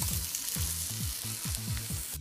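Garlic in browned butter crackles in a hot pan as a soft, continuous sizzle, with a low, rhythmic tonal pattern repeating beneath it.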